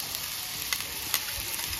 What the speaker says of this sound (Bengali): এই যে আমার মশলাটা ভাজা হয়ে গেছে